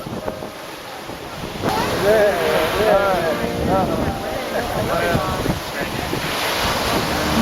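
Ocean surf washing up on a Florida beach at a turtle hatchling release, a continuous rushing wash with strong wind buffeting the microphone, while indistinct voices talk over it.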